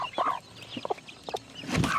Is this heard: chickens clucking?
yes